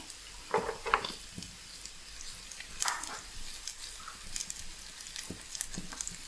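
Sliced garlic fries with lightly browned onions in a pan for a Kerala beef ularthiyathu. It makes a soft, close sizzle with a few scraping stirs and light clatters. Throughout it stays fairly quiet and no one talks.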